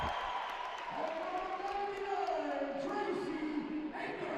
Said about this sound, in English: an incredible roar for Scald Eagle.